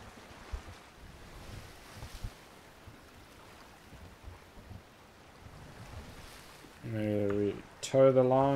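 Soft, steady wind and lapping waves wash past a small sailboat at sea in the video game Sail Forth, a faint, continuous ambience, with a voice speaking near the end.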